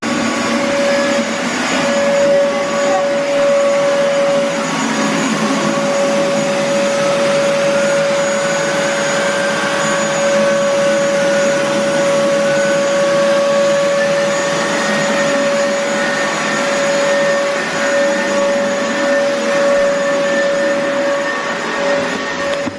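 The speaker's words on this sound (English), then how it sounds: "So here we go, the new Dyson in action." A Dyson vacuum cleaner runs steadily and loudly throughout, a constant motor whine with a high pitched tone and airy rush, no voices.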